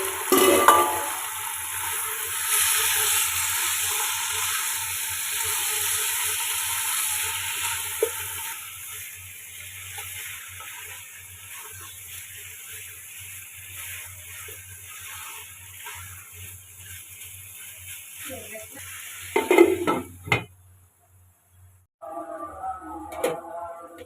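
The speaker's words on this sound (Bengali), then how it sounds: "আমি কিন্তু বিরিয়ানিতে হলুদ ব্যবহার করি না দেখতে মাংসটা কষাচ্ছি" Meat browning with salt and spices for biryani hisses steadily in a pot, with occasional stirring scrapes and clinks near the end before the sizzle drops away and briefly returns.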